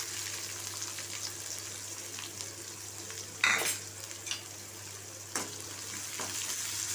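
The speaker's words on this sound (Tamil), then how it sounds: "நல்லா வதக்கிக்கோங்க." Onions frying in hot oil with mustard seeds, cumin, dried red chilli and curry leaves for a bean poriyal, a steady soft sizzle with a few brief stirring scrapes and clinks.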